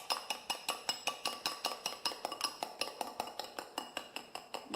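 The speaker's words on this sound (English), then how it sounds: "Whisk it in. So we are mixing the wet ingredients first." A whisk beating egg whites into wet ingredients in a mixing bowl for gluten-free banana bread or chocolate cake, a brisk, steady run of close metallic clinks and scrapes against the bowl with no voice.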